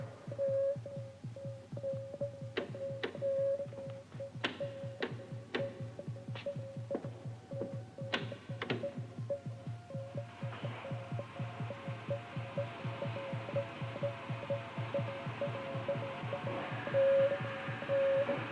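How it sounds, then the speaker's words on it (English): Sci-fi ray compressor machine powering up in a 1967 superhero film, a steady low throbbing hum with a repeating mid-pitched beep and sharp clicks, swelling into a denser rushing drone partway through. "Start the ray compressor."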